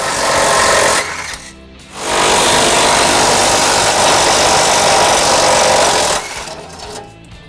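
Power tool with a 17mm socket driving out the tow hook bolts on a 2002 Acura MDX, a loud continuous buzzing whir that runs for about a second, pauses, then resumes steadily for roughly four more seconds.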